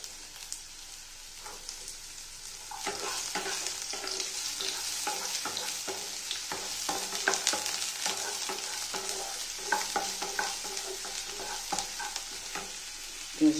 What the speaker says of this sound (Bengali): পেঁয়াজটা যতক্ষণ ভাজা হোক ততক্ষণ আমি একটু ঢাকা দিয়ে রাখবো।